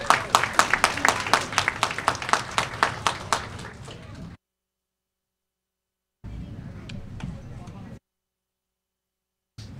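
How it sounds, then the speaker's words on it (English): A school governing board meeting audience claps for students, roughly twenty quick, even claps at moderate loudness that fade out, followed by silence and a stretch of quieter room noise. "So let's give them a round of applause."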